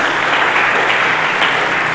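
Sustained applause from a church congregation fills the space, many hands clapping in a thick, unbroken wash at constant volume, no speech standing out over it.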